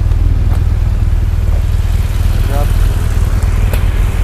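A 2017 BMW R1200GS Adventure motorcycle engine runs close by at a steady idle, giving a continuous low, throbbing rumble throughout with a few faint clicks over it.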